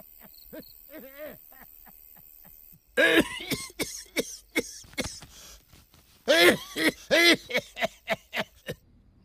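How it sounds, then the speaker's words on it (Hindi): An elderly man's hoarse, barking coughs arrive in two loud fits of rapid, rhythmic bursts, with softer throaty vocal sounds and a quiet pause before the first fit. "अरे मेरे बस में नहीं है ये खांसी।"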